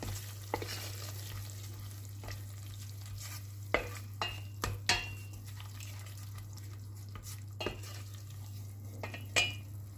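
A spoon stirs a tarhana mixture with garlic and mint in a pot, producing quiet scraping and occasional sharp knocks against the pot over a low steady hum, with no voices.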